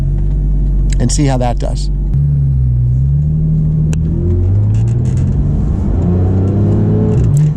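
A 2016 Porsche GT3 RS drives in PDK automatic mode, its engine rumbling loud and close and rising steadily in pitch as it pulls, with someone talking over the start.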